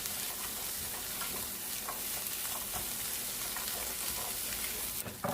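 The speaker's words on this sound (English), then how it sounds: "We've been frying the carrot for about 4 minutes now" Steady, quiet sizzling of carrot frying in a hot pan for Ghanaian egg fried rice, continuous with faint stirring and no talking.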